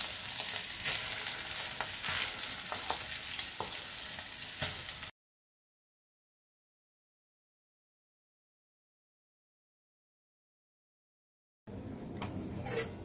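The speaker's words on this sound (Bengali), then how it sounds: "কড়াইটা তলাটাতে আটকে আটকে যাবে, কিন্তু পরিষ্কার করে চেঁচে নিয়ে ভালো করে এটা কষিয়ে নিয়ে মিক্স করে নিতে হবে" Ground masoor lentil paste fries in a kadai with ginger paste, turmeric and salt, a dense close sizzle with stirring scrapes, cut by a long silent gap before resuming briefly.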